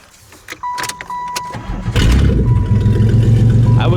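An old demolition derby car that sat unused for five years with stale gas in the tank cranks briefly, fires up and settles into a loud, rough, steady idle nearby, with a little background noise.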